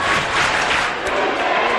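A basketball crowd cheering for Souhegan at an NHIAA Division 2 boys championship game roars in a dense, loud, continuous wash of voices with a few swelling peaks.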